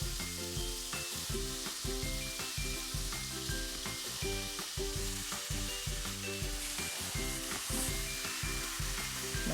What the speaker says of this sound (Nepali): अनि हल्का फ्राई गरेपछि चाहिँ हामीले मासुहरू एड गर्छौँ।